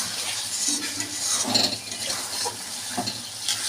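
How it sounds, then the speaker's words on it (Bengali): A little water poured into a pan of sizzling dahi chicken, producing a close, steady splashing hiss with faint clinks of a bowl and utensil, continuous and moderately loud, no talking. "এই বাটিটা ধুয়ে একটুখানি জল দিয়ে দিচ্ছি।"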